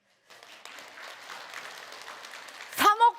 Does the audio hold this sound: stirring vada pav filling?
no